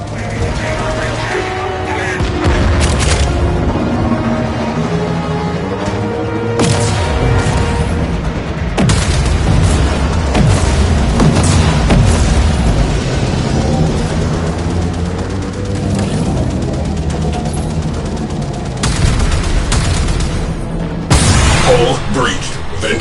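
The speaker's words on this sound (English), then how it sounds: "Gunnery crews, launch torpedoes." In the space game Warframe, torpedoes launch and detonate as a string of booming blasts and thuds, loud and spread across the stretch, mixed with game music and spoken game dialogue.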